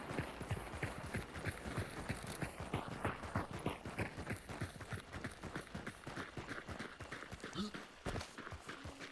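Several players run in a hunting video game, their footsteps thudding in a fast, steady, overlapping rhythm close by for about nine seconds, with faint voices at times.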